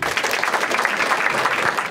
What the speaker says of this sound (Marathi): हे टाळ्या वाजा दोघांसाठी